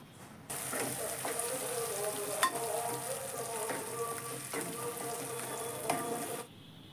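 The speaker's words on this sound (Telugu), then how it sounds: "మిక్సీ పట్టుకున్న గోంగూర పచ్చడిని ఇందులో వేసుకొని గరిటెతో బాగా కలపాలండి." A ladle stirs gongura pickle in hot oil in a pan, a steady sizzle with scraping strokes and a few sharper knocks of metal, close and without talk.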